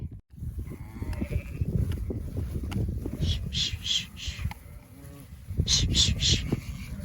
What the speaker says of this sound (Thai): อันนี้คือเราย้ายแกะเข้าไป ใน คอกแล้วก็จะแยกแม่กับลูกนะคะ